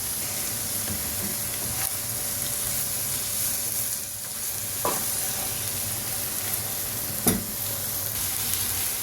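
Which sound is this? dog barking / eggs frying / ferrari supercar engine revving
eggs frying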